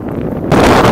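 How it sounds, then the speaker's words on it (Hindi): A strong storm wind sweeps across a wheat field where a thresher has been switched off. The gust roars loudly and buffets the microphone, growing even heavier halfway through. "बहुत तेज़ हवाएँ हैं"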